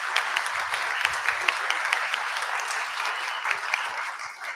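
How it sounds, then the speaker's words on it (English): Steady audience applause at a student pitch competition, a dense even wash of many hands clapping that carries for several seconds and fades slightly at the end. "If we could actually give them a quick round of applause."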